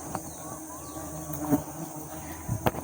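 Honeybees buzz faintly through the air during a wild honey harvest high in a tree, with a thin steady drone and a few scattered knocks and rustles nearby.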